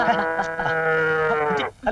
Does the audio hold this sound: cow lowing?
yes